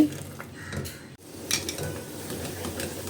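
Pumpkin halwa is being stirred in a pan over a medium flame, with continuous close scraping and clinking of a spoon against metal and a brief pause partway through.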